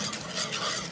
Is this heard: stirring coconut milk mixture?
yes